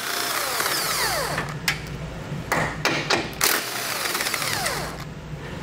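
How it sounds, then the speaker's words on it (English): A 15mm socket tool removes bumper beam bolts on a 2021 Chevrolet during a base plate installation, giving several short bursts of rapid mechanical whirring with a few sharp knocks, fairly faint and close, with no talking. "We'll use a 15mm socket to remove these."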